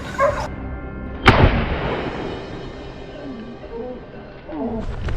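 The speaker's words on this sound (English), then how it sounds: "Just then, our dogs barked furiously." Hunting dogs barking furiously during a wild boar hunt: a couple of loud, rough barks at the start and a heavy booming burst, then fainter distant yelps and calls over outdoor rumble.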